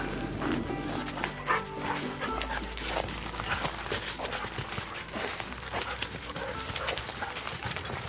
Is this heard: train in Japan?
no